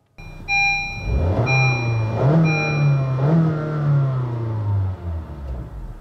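A 2015 Honda Fit with a 1.5-liter engine accelerates while driving, its engine note rising steadily through several gear pulls and staying loud and close, with a constant whir in the background and no talk.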